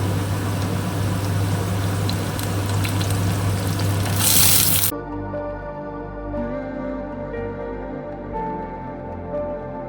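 Pointed gourd (potol) goes into a hot pan while a Bengali lentil-fritter and stem curry is being cooked. A loud, dense sizzle lasts about five seconds and then cuts off abruptly, leaving only a quieter tonal background.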